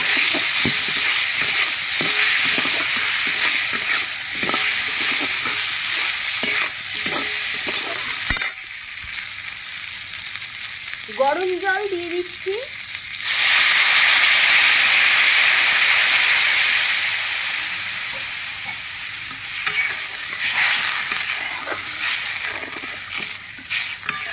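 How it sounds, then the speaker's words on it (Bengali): Mango pieces fry in oil with turmeric and salt, making a loud, close, continuous hiss and sizzle that briefly drops away midway with a short tonal sound before surging back, with no talking. "ভালো করে একটু আমটা তেলে ভেজে নেব।"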